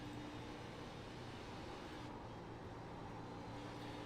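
Onboard stock car engine from the iRacing video game at Darlington Raceway, a steady faint drone of the racing machine at speed with no pauses or talk.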